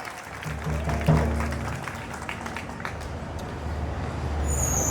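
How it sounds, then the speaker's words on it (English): A crowd at a rally where Australian lawmakers back the Iranian revolution breaks into applause, a broad rushing clatter swelling and easing over a low steady hum. "Give her a round of applause."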